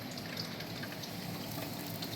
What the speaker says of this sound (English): You can see our creek over here.